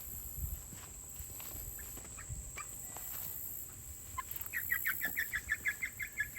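Muscovy ducks give odd, untypical calls close by, with scattered footsteps and rustling, then a rhythmic run of short clucking notes toward the end.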